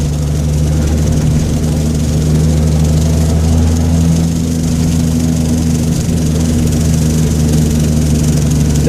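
A 1970 Datsun 240Z with a turbocharged L28ET engine pulls in third gear, a steady loud low drone with harmonic bands holding throughout, heard from inside the car with no voices over it.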